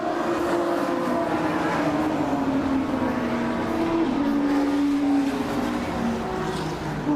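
Pre-1993 and pre-2003 classic touring cars pound down the straight at Brands Hatch, a continuous loud engine drone with a sustained tone shifting in pitch as the pack races past.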